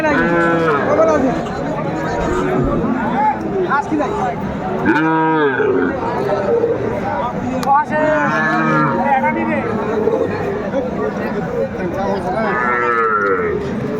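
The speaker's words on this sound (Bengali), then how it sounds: "ওই পাশে একটা ষাঁড় বাচ্চা এই পাশে একটা ষাঁড় বাচ্চা" Bull calves moo repeatedly at a busy rural cattle market, with loud, close bellows rising over a steady hubbub of people talking and bargaining.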